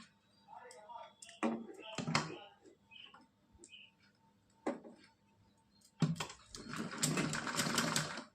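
A sewing machine stitches a net dress, with short bursts of rapid mechanical ticking and a longer steady run at the end, with some voice between.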